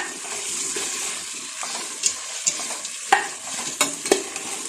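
Soaked sago and cooked ada rice flakes stirred together in a pan for ada payasam, with a wet, sloppy, scraping stir and a few sharper clinks of the spoon against the pan.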